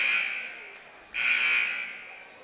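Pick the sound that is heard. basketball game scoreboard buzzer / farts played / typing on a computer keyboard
basketball game scoreboard buzzer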